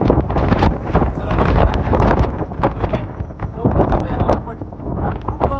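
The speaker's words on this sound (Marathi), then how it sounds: "वारा चालू झालेला आहे, आम्हाला दिसत काही नाही आणि वाराच आम्हाला पडत आहे." Strong wind roars and buffets the microphone in continuous gusts at a hill fort, with a person speaking under the rushing noise.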